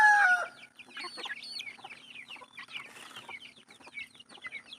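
Chickens in a backyard poultry yard, including chicks in a brooder, cluck and chirp in irregular bursts at moderate distance, after a brief opening crow, with no talking.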